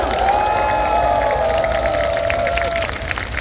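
A congregation applauds continuously in a large church hall during a worship service, a dense wash of clapping with a sustained musical tone sounding underneath.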